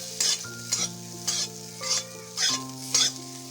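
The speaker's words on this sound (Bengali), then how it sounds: "দিয়ে বেগুনটা ভেজে নেব ভালো করে।" Eggplant strips sizzling in a pan for Bengali pumpkin-stem chachchari, stirred in six regular scraping strokes over a steady fry, close and clear, with music faintly behind.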